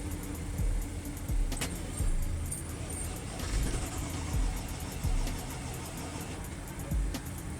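A Mercedes with a faulty fuel gauge cranks and tries to start, rhythmic starter whirring and clicking pulses repeating under a steady electrical hum, close by with no talk.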